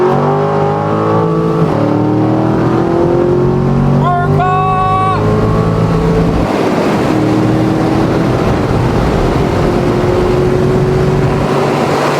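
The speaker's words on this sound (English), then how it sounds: "We got Maserati rolling in." A Maserati rolls in at a car dealership, its engine rising and falling in pitch as it revs and moves past close by. The engine tone is loud and continuous, and a brief higher whine sweeps through midway.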